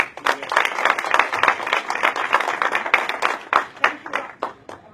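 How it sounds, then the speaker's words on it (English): Conference audience applause, a dense burst of many hands clapping in a hall that holds steady and then tapers off slightly near the end. "I think he deserves an applause."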